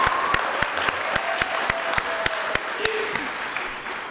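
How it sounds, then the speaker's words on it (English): Sparse clapping from a small group at an awards ceremony, with individual sharp claps standing out against a faint room murmur. "round of applause"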